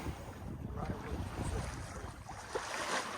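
A sailboat under way at about four knots, with steady wind rumbling across the microphone and water washing along the hull throughout, no voices.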